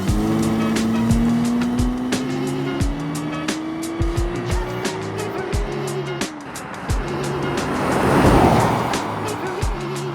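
Jaguar XJ12 Daimler saloon with a V12 engine driving and accelerating, its rising engine tone climbing steadily over several seconds amid road and wind noise, with brief sharp clicks and a surge of broadband rush near the end.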